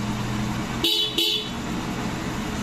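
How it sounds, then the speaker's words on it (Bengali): Two short blasts from the horn of a Honda Shine BS6 motorcycle fitted with an Exide XLTZ5A battery, close and loud, separated by a brief gap over a steady idling hum. "দেখো আমি হর্ন বাজাচ্ছি"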